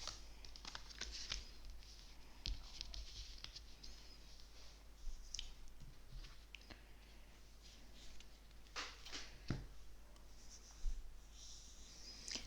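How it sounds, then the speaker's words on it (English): Tarot cards are shuffled, slid and laid out on a surface, producing soft, faint scraping and tapping rustles at an irregular pace over a steady low hum, with no talking. "Just gonna take a minute to arrange these cards because I've got quite a few cards for you."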